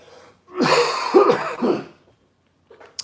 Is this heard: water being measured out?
no